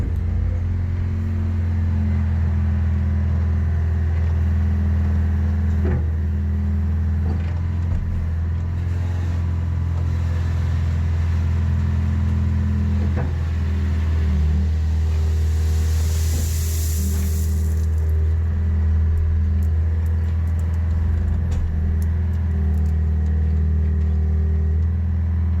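A sand-scooping work machine powered by a 471 engine runs at a steady, loud, continuous low rumble throughout, with no pauses and no voices.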